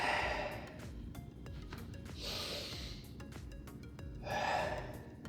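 Deep, audible breaths drawn in and pushed out during an exercise session, a few slow breathing swells close to the mic with quiet gaps between them.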